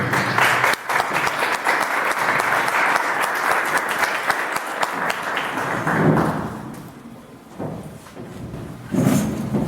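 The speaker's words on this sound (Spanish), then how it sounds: "Los recibimos con un aplauso." An audience at a talk on General José de San Martín breaks into sustained applause that fades after about six seconds, followed by scattered claps and a short final burst.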